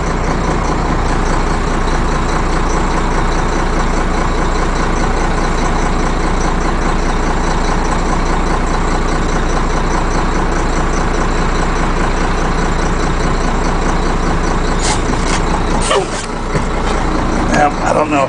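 A Ford F800 diesel auger boom truck runs with a loud, steady engine rumble close by, continuous throughout with a brief dip and clatter near the end, while someone talks over it.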